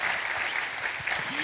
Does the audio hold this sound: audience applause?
yes